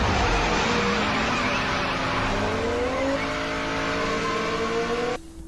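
Cars race in a movie scene involving Brian O'Connor, with continuous loud engine roar, revving and tire noise throughout before cutting off abruptly near the end.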